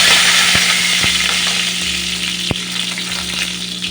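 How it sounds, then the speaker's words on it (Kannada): Mustard seeds and curry leaves sizzle steadily in hot coconut oil, a loud continuous crackling hiss punctuated by a few sharp pops near the start and middle, with no voices. "ಎಣ್ಣೆ ಬಿಸಿಯಾದಾಗ ಸ್ವಲ್ಪ ಸಾಸಿವೆ ಹಾಕಿಕೊಳ್ಳೋಣ. ಸಿಡಿದಾಗ ಕರಿಬೇವಿನ ಸೊಪ್ಪು,"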